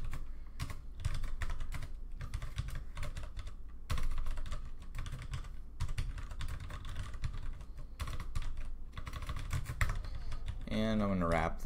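Rapid typing on a computer keyboard while writing code for a forgot-password controller, a steady close run of key clicks with brief pauses and a short electronic tone at the end.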